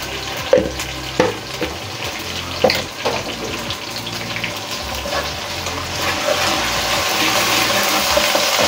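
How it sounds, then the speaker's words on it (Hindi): Potatoes and spinach frying in a pan with ginger-garlic paste and salt, stirred with a utensil: steady sizzling hiss with scattered scraping clunks, close and fairly loud, growing denser toward the end. "इसे चला लें अच्छी तरह से।"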